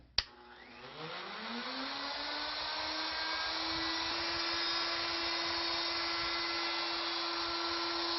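A powered cutting tool spins up from a sharp start and settles into a steady, loud whine that holds unbroken, making the second cut in a wooden cane for a magic wand.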